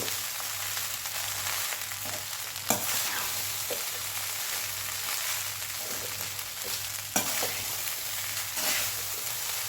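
A spatula stirs jeera rice in a hot pan, a steady sizzle running throughout with occasional sharper scrapes and taps against the pan.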